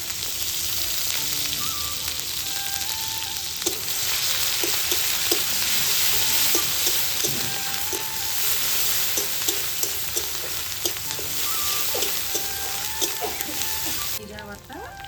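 Onion paste fries in hot oil for a tel koi fish curry, a loud, steady, close sizzle with scattered crackles and occasional stirring throughout.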